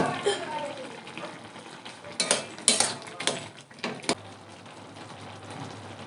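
A metal lid comes off a cooking pot of simmering greens with a few sharp clinks and clatters mid-way, followed by a low steady bubbling and someone speaking nearby.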